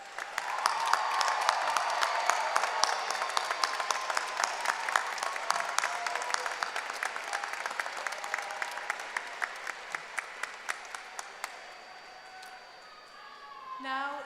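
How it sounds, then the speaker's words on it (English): Sustained applause from a large audience greets graduates at a university commencement ceremony, a dense wash of clapping that gradually thins to scattered claps before a brief rustle at the end. "How about another round of applause for our graduates?"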